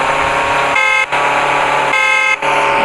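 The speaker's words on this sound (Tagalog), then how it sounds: "Tingnan yung horn." A loud, sustained car horn in the video game MadOut2 blares in two long blasts, each cut by a brief gap, over a constant engine-like drone.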